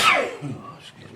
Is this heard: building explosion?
no